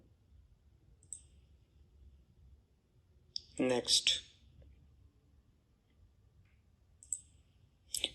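A computer mouse gives a few sharp, faint clicks spread across a quiet stretch, with a brief burst of speech in the middle.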